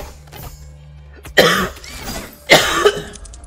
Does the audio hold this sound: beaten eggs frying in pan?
no